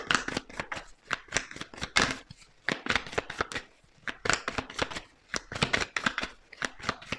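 Oracle cards being shuffled by hand, a run of quick riffling flutters and soft slaps in irregular bursts, close and fairly loud, with no voice over them.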